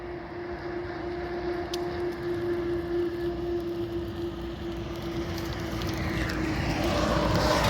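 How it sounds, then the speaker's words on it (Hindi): A tiny battery-powered car built from bike, car and tractor parts cruising along a road, a steady faint whine with a constant tone over road rush, growing slightly louder toward the end. "आप देख रहे हैं कितनी खूबसूरत लग रही है सड़क पे एक नन्ही सी कार चलती हुई जो कि बैटरी से चल रही है"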